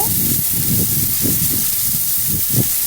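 Chopped onions frying in a pan over medium heat for a Bengali fish curry, a steady loud sizzling hiss with soft bubbling pops throughout, close up and with no voices.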